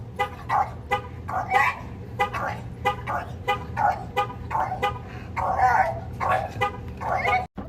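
A dog barks repeatedly in quick, uneven bursts, fairly close, with a steady low hum underneath.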